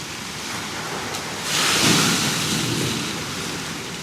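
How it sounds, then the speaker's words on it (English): A big tipping water cup in a Bali garden spills over, a broad rushing splash swelling in the middle and tapering off, over steady outdoor water noise. "the kids get underneath it and get splashed as the water tips"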